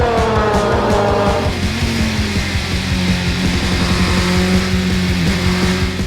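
Race cars at Spa-Francorchamps during the 4 Hours endurance race, engines roaring loud and close with rising and falling pitch as they pass at speed near a 301 kph braking zone, with a brief tyre squeal, no talk.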